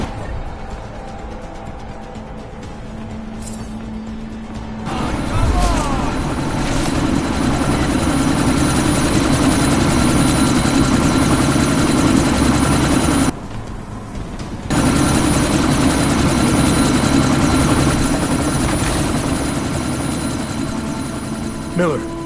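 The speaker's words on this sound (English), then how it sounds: "That chopper's about to take off!" A helicopter in Deus Ex: Mankind Divided winds up for takeoff: a low rotor drone grows loud and steady after a quiet start, briefly cutting out before returning, with spoken voices over it.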